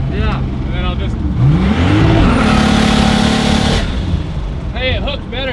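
A turbocharged BMW E30 with a stroked M20 engine accelerates hard, the engine note climbing through a rising rev sweep then holding high and loud before easing off, with people talking around it.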